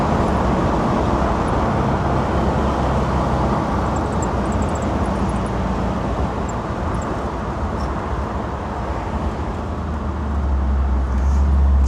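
A 1955 Cadillac restomod with a modern powertrain cruises along a road, giving a steady, dense rumble of engine and tire roar that holds constant throughout, close and loud, with no voices.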